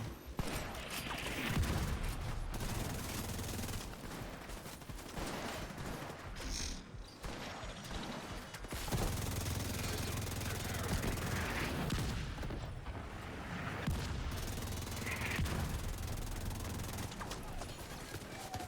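Dense, sustained gunfire rattles through a firefight at Tidal Basin in The Division 2 against enemy snipers: loud, near, rapid volleys with mechanical clatter, broken by brief lulls, and a voice talking now and then.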